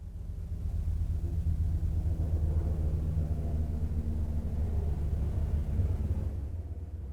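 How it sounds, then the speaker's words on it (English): A helicopter passes overhead at a distance as a low, steady rumble that swells and then fades over several seconds, faint and alone with no talking. "I'll just wait for this helicopter to fly by."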